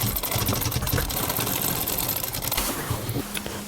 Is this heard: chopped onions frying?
no